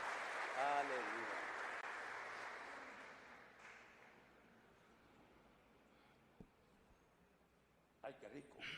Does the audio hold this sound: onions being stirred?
no